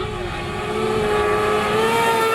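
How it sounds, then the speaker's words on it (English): A gravel hillclimb race car climbs a course at full throttle, its engine note rising steadily through the gears toward a spectator point, loud and sustained without a break. "Grabbing 5th gear as he works his way towards the spectator point now"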